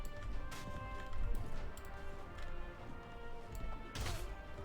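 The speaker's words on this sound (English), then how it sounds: "Oh god, our horse is so slow." Horse hooves clip-clopping in the Mount and Blade Warband video game, rapid irregular thuds with sharp clashes and impacts mixed in, moderately quiet throughout.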